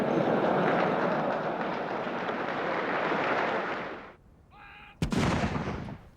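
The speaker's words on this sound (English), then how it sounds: "A 21-gun salute in Hyde Park to celebrate Prince Philip's 70th birthday" A 21-gun artillery salute fired in Hyde Park for a royal birthday celebration, heard as a loud, continuous rumbling roar that drops away briefly before another sharp, close blast bursts out and rumbles on.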